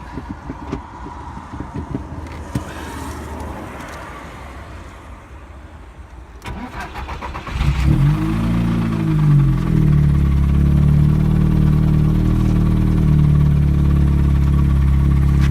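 An Audi S3 sits quietly with faint rustling before its engine cranks and fires, the revs flaring into a loud, deep sweep and then settling into a heavy, rumbling idle that stays strong and close to the end.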